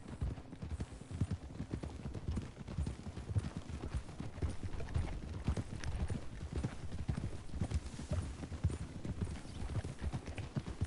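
Horse hooves clip-clop in a quick, steady rhythm throughout, with a brief whinny mixed in, sounding like a game soundtrack rather than a real outdoor recording.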